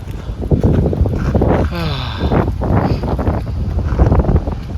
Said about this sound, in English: This wind is pumping here.